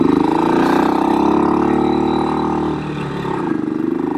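A BSA Victor Special 441 classic long-stroke single-cylinder motorcycle engine runs close by at a steady, throbbing pace, dipping slightly near the end before picking up again, with no voices.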